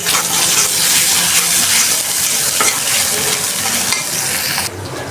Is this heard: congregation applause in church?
no